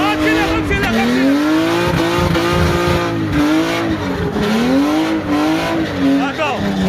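A drift car at a drift event accelerates hard with tires squealing, a loud, continuous engine roar whose pitch rises and falls in sweeps, with voices faintly underneath.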